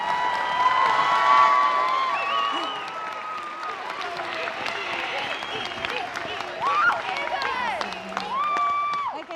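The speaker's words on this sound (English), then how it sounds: "Let's give them one more round of applause." A graduation audience for the Options High School Class of 2023 applauds and cheers the graduates, the clapping and scattered shouts steady and moderately loud, while a voice speaks over the noise.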